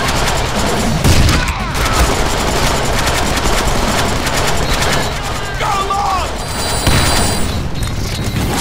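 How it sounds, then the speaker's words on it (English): Gunfire rings out in the Deadpool video game, rapid bursts of shots and booms mixed with explosions and game sound effects, while a character's voice talks over the action. "I am shooting you!"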